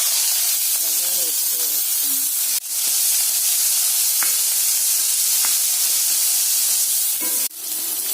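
Mustard seeds crackle and sizzle in hot oil for a chickpea curry, a steady loud hiss with scattered sharp pops and two brief dropouts.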